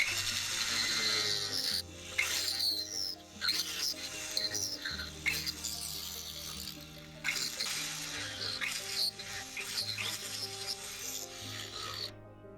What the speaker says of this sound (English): Next I burr out a slot for the stone to fit into.